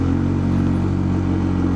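A weak-sounding motorcycle engine drones steadily and loud while climbing a steep uphill road, a constant labored hum with no pauses.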